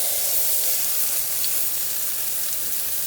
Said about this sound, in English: These are not cooking the meatballs, they're just browning them on all sides.